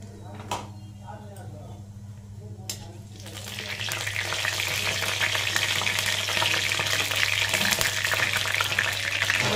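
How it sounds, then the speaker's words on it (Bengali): Panch phoron five-spice seeds dropped into hot oil in a kadai for a Bengali mourola fish curry burst into a loud, dense sizzle that rises after a few quiet seconds and stays steady, with a low hum beneath. "কড়াইতে তেল গরম হয়ে গেছে, এবার পাঁচ ফোড়ন দিয়ে দিলাম তেলে।"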